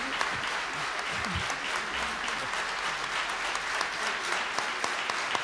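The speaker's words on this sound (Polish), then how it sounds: "Brawa dla młodości, proszę Państwa." Sustained, even applause from a concert audience after young singers perform with a swing orchestra, dense clapping holding steady and fairly close throughout.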